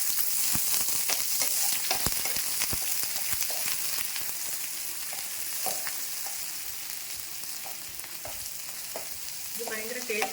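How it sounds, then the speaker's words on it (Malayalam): Cumin seeds, shallots and chopped onion sizzle steadily in hot oil, a dense close hiss broken by occasional sharp pops and crackles, with a few utensil clinks near the end. "എണ്ണ ചൂടായി. അതിനുശേഷം കുറച്ച് ജീരകം, ഉള്ളി, സവാള അരിഞ്ഞത്"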